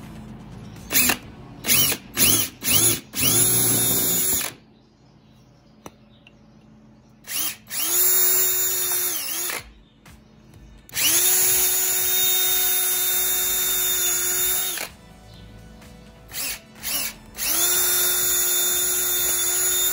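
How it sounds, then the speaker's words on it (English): A power drill bores holes in clamped wood for a floating shelf, running in several loud sustained whines of a few seconds each, separated by short bursts and quiet gaps, with no talking. "you're just going to want to do a couple of holes."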